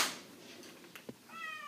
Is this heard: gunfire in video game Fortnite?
no